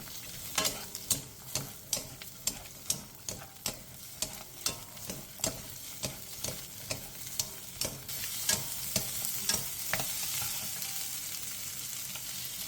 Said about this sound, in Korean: 팬에 식용유 2스푼을 두른 뒤 대파와 양파, 당근, 배추를 넣고 센 불에서 2분 정도 볶아주세요.